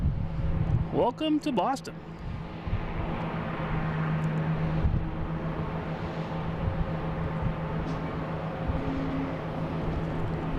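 A Cabo Verde Airlines jet carrying a soccer team arrives at Boston Logan, a steady, broad jet roar held throughout under a brief spoken greeting.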